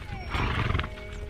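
Camargue horses heard outdoors beside a bicycle ride, with a close, loud horse snort or whinny and hoof sounds under faint voices.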